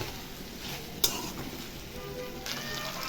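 Eggs and mixed vegetables frying and being stirred for a spiced egg bhuna, a soft continuous sizzle with one sharp utensil clink near the start, fairly quiet with no talking.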